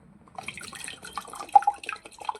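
Fresh coconut water dripping and trickling into a glass: quiet, close, irregular drips and small splashes that thicken into a brief trickle.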